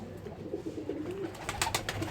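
Soft, low pigeon coos murmur continuously in a cluster, with a few brief rustles and flutters toward the end.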